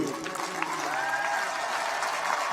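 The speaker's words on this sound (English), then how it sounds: "Graduates, I'd like for you to celebrate and applaud and recognize those who are here celebrating you" Audience applause at a Rice Business investiture graduation ceremony, a steady broadband clatter of many hands filling the hall throughout, moderately loud and even.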